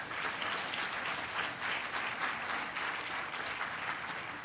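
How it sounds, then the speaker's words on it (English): Steady applause from an audience at an annual spring celebration gala program, a dense wash of many hands clapping continuously and loudly throughout with no pause. "let's clap for that"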